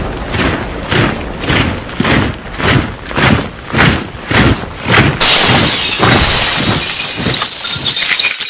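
Glass shattering as a sound effect evoking Kristallnacht: a series of rhythmic crashing impacts about once per second, then a sustained bright spray of breaking glass, loud and close.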